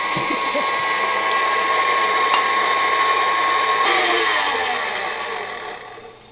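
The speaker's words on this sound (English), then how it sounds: "we will mix that until it's well blended" An electric mixer whirs steadily while blending brownie batter with milk and vanilla for zucchini brownies, a close continuous motor drone that fades slightly near the end.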